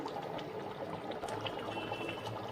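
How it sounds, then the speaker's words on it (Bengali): Shahi paneer gravy with paneer cubes simmers in a pan, giving a continuous close bubbling and soft popping with a light liquid hiss throughout, no voices. "আর 2 মিনিট মতো ফুটবে পনিরটা গ্রেভির সাথে।"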